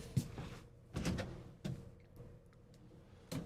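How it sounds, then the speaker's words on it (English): Several soft thuds and sliding bumps of soft-close drawers on bearing glides in a Thor Magnitude SV34 motorhome, gliding shut gently, spaced out over a few seconds in a quiet room. "Real easy to open, soft close,"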